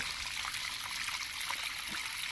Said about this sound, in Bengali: তেমনি কুলুক কুলুক ধ্বনিতে এখানকার সমস্ত বর্জ্য সব কিছু যেন ধুয়ে মুছে সামনের দিকে এগিয়ে নিয়ে যাচ্ছে